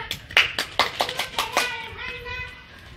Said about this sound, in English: Give a applause for Handa.